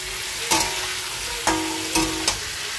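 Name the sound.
green chili and tomato frying with fish in pan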